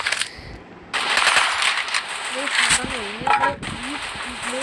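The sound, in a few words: gunfire in a video game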